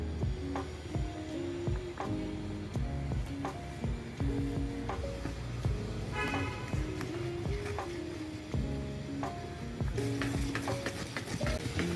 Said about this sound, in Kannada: ಕ್ಯಾರಮೆಲ್ ಸಿರಪ್ನ ಹಾಕಿ ಒಂದು ರೌಂಡ್ ಚೆನ್ನಾಗಿ ಮಿಕ್ಸ್ ಮಾಡ್ಕೋಬೇಕು